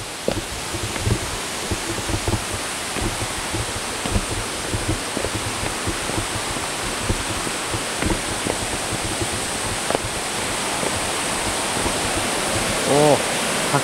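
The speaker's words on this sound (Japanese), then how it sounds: "滝の音がします。" Waterfall at Kawazu Seven Falls on the Izu peninsula. It pours as a steady, full, hissing roar with no break and drowns out the other sounds around it.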